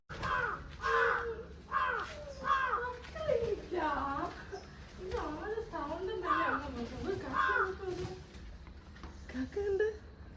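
Crows caw in repeated harsh bursts while being fed breakfast food outdoors, several calls overlapping close by, with a person talking throughout.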